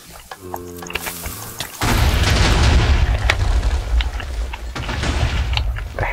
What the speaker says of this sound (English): Aside from the obvious fact that it was an explosion.